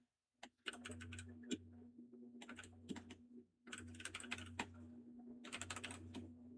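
Keys clatter in quick irregular bursts on a computer keyboard during a names quiz game, rapid typing runs broken by short pauses over a low steady hum, close and moderately loud.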